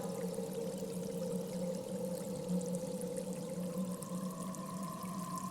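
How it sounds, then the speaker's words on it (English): Steady running water pours into a deep natural well in a video game, a continuous, even rushing flow heard alone at constant level throughout. "It's a natural well formed by the running water."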